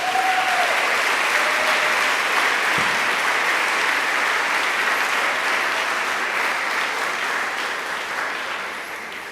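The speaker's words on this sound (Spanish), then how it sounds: "Denle un aplauso fuerte a Jesús." A church congregation gives loud, sustained applause during a sermon, a dense, even roar of clapping that fades slightly toward the end.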